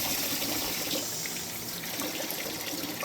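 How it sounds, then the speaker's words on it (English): Water running steadily from a garden hose, a continuous close hiss and splash of flowing water with no pauses and no voices. "So we're just going to take the water hose"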